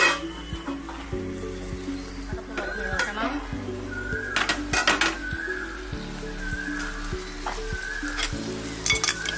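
Grated coconut frying in oil for a prawn roast, a continuous close sizzle with stirring scrapes, under a voice speaking throughout.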